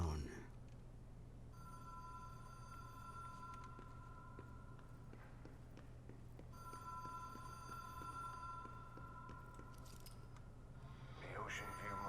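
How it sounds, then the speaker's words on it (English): A telephone rings in the video game Control, two long bursts of electronic trilling ringing separated by a pause, moderately loud over a low steady game hum. "A phone."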